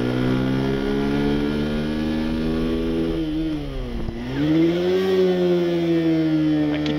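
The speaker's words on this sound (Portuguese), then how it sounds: "Senti que a aceleração, a retomada que a gente vai mostrar agora aqui antes de entrar na grande reta é muito boa." A Haojue DR 160 motorcycle pulls hard down a long straight with a loud, steady rising engine whine. Mid-run the revs dip sharply as the rider downshifts, then the engine climbs again, heard close up with no talk.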